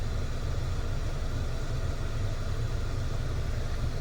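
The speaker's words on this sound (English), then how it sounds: "right now I got it on the vents, so you can see we're blowing through there" A Chevrolet Cruze heater blower pushes air through the dash vents as a steady, dense whooshing rush over a low engine hum, unbroken for the whole stretch with no talking.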